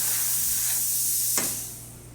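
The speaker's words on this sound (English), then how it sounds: "Nice strong steam." Steam hisses strongly and steadily from the wand of a freshly serviced La Spaziale Mini Vivaldi espresso machine, a loud continuous rush that briefly swells before tapering off.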